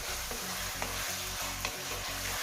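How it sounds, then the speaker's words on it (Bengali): Chopped onion with ginger paste and garlic paste frying in a pan for a spicy chicken and cabbage curry, a steady close sizzle broken by regular stirring scrapes roughly every half second, with no voices. "এখন আমি এটাকে একটু ভালো করে ভেজে নিব, কষিয়ে নিব।"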